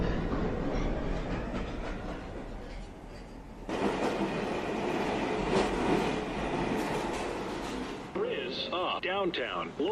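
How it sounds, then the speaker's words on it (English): A downtown local 1 train in the New York City subway at Chambers Street, roaring and rattling as it nears the platform, then braking with high squeals, while a recorded voice makes platform announcements. "Downtown, local 1 train. Approaching the station, please stand away from the platform edge."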